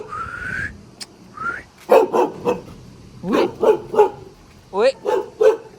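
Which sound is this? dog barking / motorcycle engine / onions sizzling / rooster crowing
dog barking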